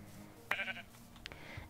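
Two short sheep bleats from Minecraft, one near the middle and another just after, set against a quiet game backdrop.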